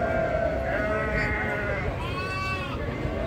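Sheep bleat repeatedly and close by at a busy livestock market, their wavering cries overlapping with a murmur of people talking in the background.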